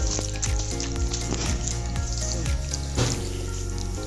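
Ribbonfish sizzle steadily as they fry in a hot pan on a stove, a continuous crackle heard close up beneath a backdrop of music.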